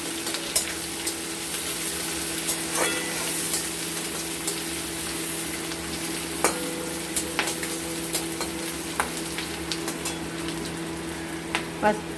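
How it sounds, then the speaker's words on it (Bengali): Chopped onions fry in a pan to brown for fish kofta curry, giving a steady crackling sizzle over a low hum. Occasional spatula taps and stirs break through, with no talking. "পেঁয়াজটাকে আমরা একটু ব্রাউন ব্রাউন করে ভেজে নেব।"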